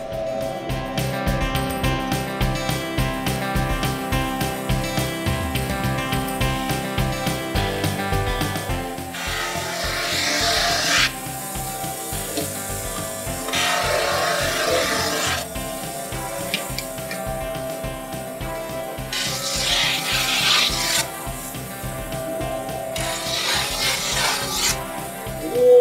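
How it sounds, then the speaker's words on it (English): A snowboard's metal edges being ground in a shop: a continuous, loud, harsh rasping drone that shifts in intensity over the stretch, with music playing along and no speech. "He's gonna take the snowboard and grind the edges."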